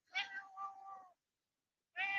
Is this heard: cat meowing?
yes